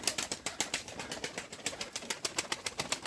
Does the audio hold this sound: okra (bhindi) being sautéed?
no